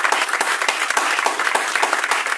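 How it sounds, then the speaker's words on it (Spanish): Congregation clapping in church during a Spanish-language sermon, a brisk, loud stretch of many hands applauding together, close and continuous for a couple of seconds. "Dale palmas a la palabra en esta noche."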